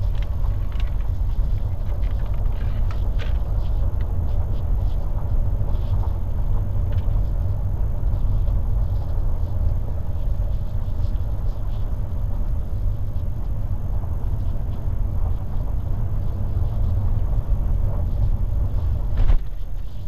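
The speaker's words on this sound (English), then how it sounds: "Some more of that washboarding in the gravel road." A 2010 Toyota Tacoma driving over a washboard gravel road, heard from inside the cab as a constant loud low rumble and road roar with faint rattling throughout.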